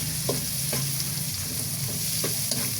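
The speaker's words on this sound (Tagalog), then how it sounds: "Sunod po, ilalagay ko naman ang sibuyas. Igigisa ko rin po yan." Onions sauté in a hot pan with a constant bright sizzle, punctuated every second or so by soft spatula strokes stirring them around; no speech.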